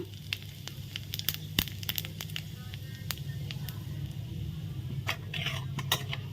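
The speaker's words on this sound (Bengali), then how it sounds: "এখন তেলের মধ্যে আমি জিরা ফোড়ন দিয়ে দেবো ফোড়নে দিলাম জিরা" Cumin seeds tempered in hot oil left from frying paneer give a steady crackling sizzle, with sharp utensil clinks and pops scattered across it at close range.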